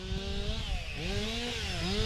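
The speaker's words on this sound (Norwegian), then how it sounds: "Nå hører jeg motorsag her oppe." A chainsaw runs up a hillside on the Sørlandet coast, its engine whining steadily and rising and falling in pitch as it revs, moderately distant and alone without talk.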